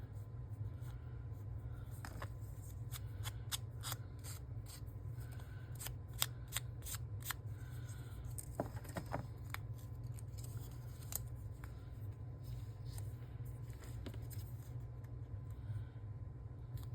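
Scissors snip through paper page tabs for a Christmas craft project, making a scattered series of sharp, close cuts over a quiet, steady background hum.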